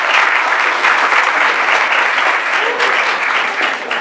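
Sustained audience applause at a talk on physics, biology and the art of color, dense and steady clapping from a crowd throughout, fairly loud with no pauses.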